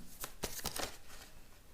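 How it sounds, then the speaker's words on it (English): Oracle cards being shuffled by hand in a quiet room, a few soft, quick riffling bursts close by, with no talking. "So I will shuffle more oracle cards for you."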